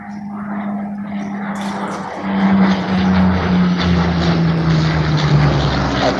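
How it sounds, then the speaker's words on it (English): A Spitfire flies past at the Bournemouth Airshow 2018, its piston engine droning steadily and swelling louder as it nears, a strong continuous propeller roar at moderate distance. "We'll get a victory roll, I'm sure, for Spitfire on the way past."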